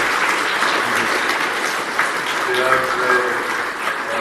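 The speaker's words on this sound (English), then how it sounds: "please give a round of applause." Audience applause at the close of a debate on Irexit and the EU, steady dense clapping from a sizeable crowd with a voice speaking over it partway through.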